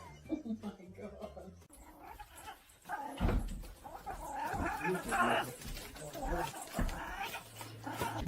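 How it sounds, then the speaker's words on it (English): A dog gives several sharp, close barks and yips in bursts over about eight seconds, while people talk around it. "Watch him bark."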